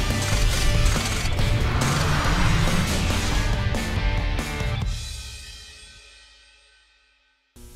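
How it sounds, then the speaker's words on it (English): A cylinder head valve seat and guide machine runs loud and steady with a dense grinding, rattling mechanical clatter, then winds down and fades to near silence before a brief final clunk. "This is our seat and guide machine."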